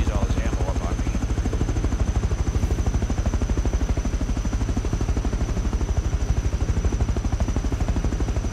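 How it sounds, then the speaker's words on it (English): Rapid gunfire in the survival video game Rust, a dense run of repeated shots heard at a distance over a steady rumbling background, lasting the whole stretch. "There's a guy shooting down there at something."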